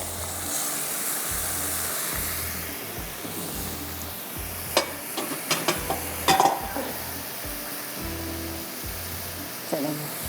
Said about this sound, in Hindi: अब जाएगा कीमा